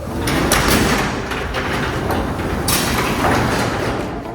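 Sectional garage door being lifted along its metal tracks after the track bolts are tightened, a sustained rolling, rattling rumble with a couple of louder clunks across the whole stretch, close and fairly loud.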